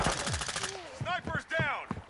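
Video game gunfire from a gun with strong kick, a fast burst of loud repeated shots at the start, followed by speech-like voice sounds.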